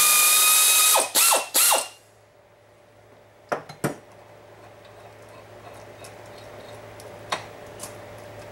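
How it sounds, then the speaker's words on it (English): Ratchet wrench clicking while pulling a gear off a Ford 9N/2N tractor transmission, several quick loud ratcheting pulls close up, then sparse metallic clinks and taps over a steady low hum. "I'm going to put a ratchet on this and we'll pull this gear off."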